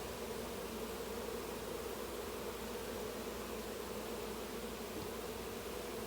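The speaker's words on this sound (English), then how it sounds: "it looks like all the bees are right here on the entrance" Honeybees from a mating swarm cluster at the hive entrance in a yard, filling the air with a continuous, even buzzing hum that stays faint and unchanging throughout.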